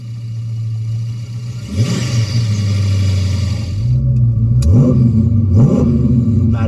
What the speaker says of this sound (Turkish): Gaza basarken bir haber ver Doğan abi.